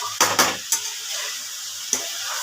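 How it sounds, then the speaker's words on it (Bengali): Potatoes frying and being stirred in a hot pan, with a steady soft sizzle under several scraping stirs of the spoon against the pan, close and clear, no talking. "আর একটু ভাজা হবে আলুটা"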